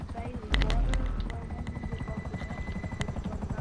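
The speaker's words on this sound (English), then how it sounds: "This is the luxury helicopter, and it's beautiful." A Volatus luxury helicopter in a video game, its rotor chop and engine whine running steadily throughout at close range, joined by a few sharp clicks and bursts of talk over the top.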